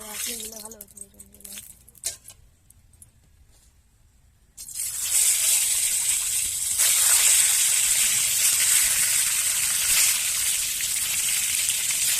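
Mustard oil added to a hot pan for an egg curry, breaking into a loud, steady sizzle that starts abruptly after a few quiet clinks and persists evenly to the end.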